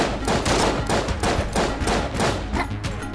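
Rapid bursts of gunfire from the Enter the Gungeon video game, dense and continuous with regular rhythmic pulses, loud and close for the whole stretch with no talk over it.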